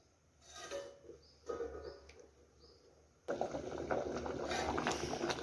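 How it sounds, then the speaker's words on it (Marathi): A pot of water with spice tempering for masale bhat bubbles on a high gas flame, a soft gurgle that swells into a louder, steady boiling rush partway through. "या पाण्याची छान अशी आता फोडणीची उकळी काढून घेऊया मोठ्या गॅसवरती"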